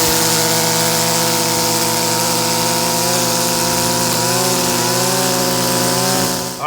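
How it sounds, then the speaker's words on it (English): A string trimmer cuts grass along an asphalt edge where the pavement meets dirt. Its motor whines loud and steady, close by and without a break, with the pitch wavering slightly before it dips at the very end. "take my string trimmer first and cut the bulk of this away"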